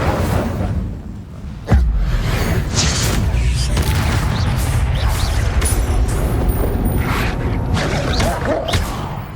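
In the game Hogwarts Legacy, the Incendio fire spell goes off with a sudden loud boom and whoosh, followed by a sustained roaring, crackling blaze and scattered impacts that fade toward the end, with a voice briefly present.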